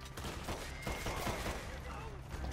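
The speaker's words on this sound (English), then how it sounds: "Yo, these Mauser pistols are dirty." Mauser pistol gunfire in the video game Red Dead Redemption 2 comes as a dense run of quick shots with overlapping reports, loud and near, with a voice faintly underneath.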